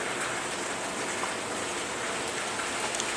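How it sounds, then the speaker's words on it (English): Steady rain falls outside in the morning, a constant even hiss of drops on surfaces with no other sounds. "rainy weather."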